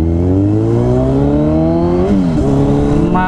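Heavy traffic on a wide road, led by a close vehicle engine droning loudly and steadily, its pitch rising and then dipping briefly near the end, with no talking.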